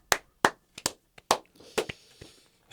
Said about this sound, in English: Great round of applause from 2 people